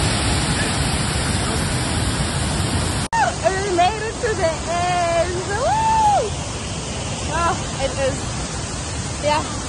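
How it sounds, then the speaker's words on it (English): Broadband rushing water from a waterfall on a hiking trail roars steadily and loudly close by, with people talking over it for most of the stretch. "the water behind me is making a lot of noise"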